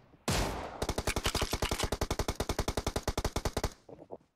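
Rapid automatic gunfire in PUBG Mobile: a sharp opening blast, then a steady burst of about thirty evenly spaced loud shots lasting roughly three seconds, ending in a faint tail with no talk.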